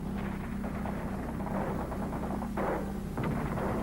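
Rapid machine-gun fire rattles on steadily under a dense rumbling din, with sharper louder bursts near the end, no voices.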